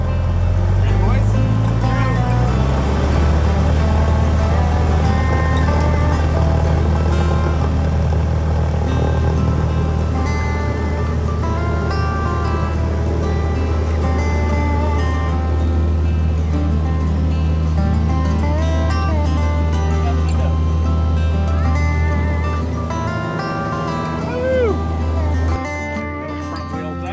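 A small single-engine airplane rolls and takes off from Craig County airport on runway 19, its engine drone steady and loud inside the cabin, with voices heard over it.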